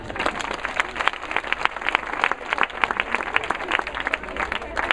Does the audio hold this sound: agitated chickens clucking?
no